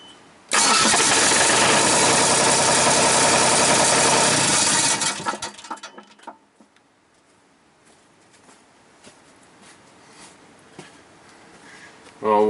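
The engine of a Genie boom lift cranks hard and loud for several seconds, then sputters and dies out into near silence with scattered small knocks before a brief burst returns at the end.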